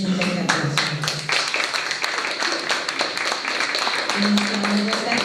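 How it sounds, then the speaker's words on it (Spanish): An audience claps for the presentation of the book La cocina borbónica de la Nueva España, with sharp individual hand claps rattling along while voices talk and murmur over them. "denles un fuerte aplauso"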